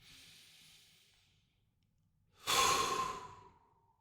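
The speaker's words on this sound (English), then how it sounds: "let's begin with another deep breath" A single deep breath taken slowly and exhaled, close and fairly loud, with a soft breath first then a strong airy exhale fading out, no talking.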